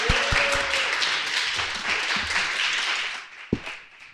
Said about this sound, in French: Félicitations, on peut l'applaudir.